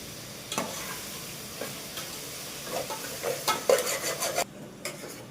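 A spoon stirring masala in a cooking pot for bachelor-style kushka biryani rice, with scattered scraping clinks and soft sizzling frying underneath, close and fairly quiet.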